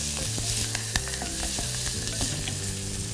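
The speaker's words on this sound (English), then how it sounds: "Then just stir it till they just very lightly caramelize." Figs stirred in a hot pan as they lightly caramelize with cilantro, salt and pepper, loud steady sizzling broken by frequent sharp clicks and scrapes of the spoon against the pan.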